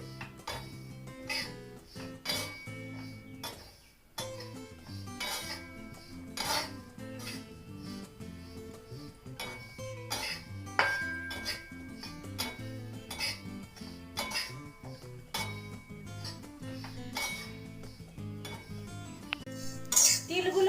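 Sesame seeds are stirred and dry-fried in a wok. A utensil scrapes and clinks against the metal continuously, with irregular rubbing strokes and light rattling close by, and no speech.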